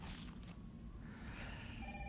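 A ringing telephone inside Resident Evil 3 keeps going in steady tones over a constant loud background rumble from the game.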